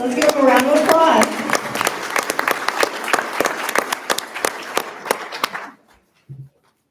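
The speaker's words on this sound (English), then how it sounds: "Let's give them a round of applause." At a regular board meeting, a brief spoken line gives way to a modest round of audience applause with distinct individual claps that fades out after a few seconds.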